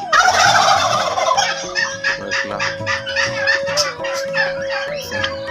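Turkeys on a farm with birds kept for sale gobble loudly and repeatedly, a dense overlapping chorus of throaty gobbles and clucks close by, with no talking.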